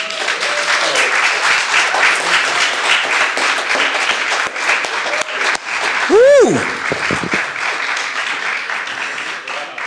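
Audience applause fills a poetry read-out after a reading, steady and loud throughout, with a sharp whoop of cheering rising near the middle and voices mixed in.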